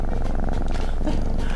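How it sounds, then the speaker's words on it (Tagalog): A cat purrs steadily while being fed Whiskas, a close, continuous rhythmic low rumble filling the short moment with no talking. "Pag pinapakain ng whiskas, purr ng purr."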